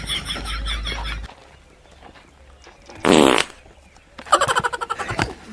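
A comedic fart sound effect, with one low buzzy blast at the start, a short loud burst midway and a final rapid sputtering run of pulses, loud and isolated against near silence.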